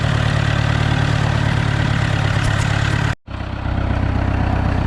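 An old Renault 110-23 tractor with a Hercules diesel engine idles steadily and loudly up close, a low rumbling throb that cuts out abruptly for a split second before resuming.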